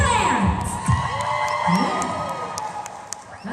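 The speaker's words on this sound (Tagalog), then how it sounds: "Isang malakas na palakpakan ang hiyawan para kay Treasurer." Crowd cheers, whoops and shouts for the treasurer at a lively event, with excited voices rising over a busy background and some talk mixed in.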